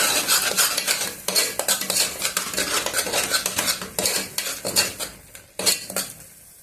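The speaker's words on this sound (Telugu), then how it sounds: "కల్లుప్పు ఇది వేసి ఒకసారి బాగా కలుపుదాము." Chicken curry being stirred in a pot after rock salt goes in, with rapid, loud scrapes and clanks of a utensil against metal over a light sizzle, close and without speech.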